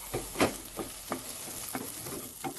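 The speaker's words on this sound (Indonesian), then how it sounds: "baru kita aduk dengan sayurannya" Scrambled egg with vegetables being stirred in a frying pan, with soft repeated scraping strokes over a faint sizzle, close and fairly quiet.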